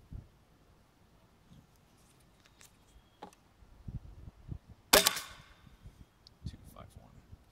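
Airgun test shots from a PTP MicroMag 12 gram setup, heard as scattered sharp cracks with one loud, bright report near the middle among smaller clicks and handling noises, fairly close with no talking.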